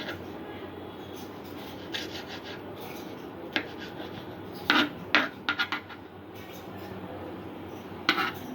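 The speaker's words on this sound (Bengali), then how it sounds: "এইভাবে সবকটা টমেটোই আমি কুচিয়ে নেব।" A knife chops tomatoes on a board, producing sparse sharp taps with a quick cluster of cuts midway and one more near the end, over a quiet room hum.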